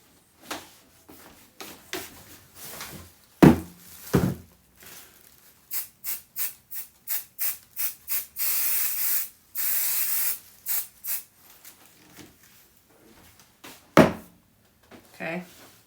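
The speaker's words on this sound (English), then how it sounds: "But first, I'm going to spray it, but I'm going to do that over my trash." A spray can hisses repeatedly over a trash can while coating a fabric silhouette for sewing, a run of short rhythmic bursts followed by a longer sustained spray, with a few thumps and handling knocks between.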